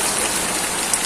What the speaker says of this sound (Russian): Ой, спасибо тебе, дождик,